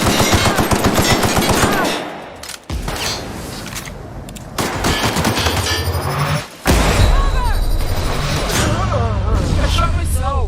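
Rapid automatic gunfire in The Outer Worlds video game, long dense bursts of shots and booming impacts broken by brief pauses, loud and close amid game noise.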